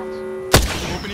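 A single loud gunshot goes off in the video game Apex Legends on PS5, a short sharp burst over a steady, humming game backdrop.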